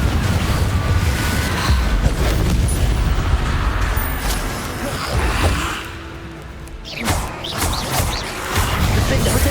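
Confringo blasting-curse explosions in Hogwarts Legacy keep up a dense, loud, rumbling roar of booming spell impacts and crashes, dipping briefly partway through before surging back.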